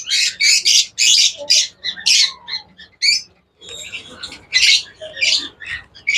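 A pair of Fischer's lovebirds squawks in loud, shrill bursts close by, the harsh calls coming in quick irregular clusters with a brief pause in the middle.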